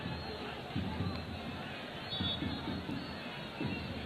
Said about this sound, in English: The crowd are happy enough, as well they might be.